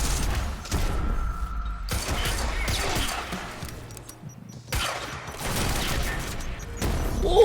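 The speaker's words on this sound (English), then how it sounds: "That was a lot of guns shooting at me at once." Many guns firing at once in the game Quantum Break: dense bursts of gunfire and crashes in a boss fight, loud and clustered, with a short lull midway before the shooting resumes.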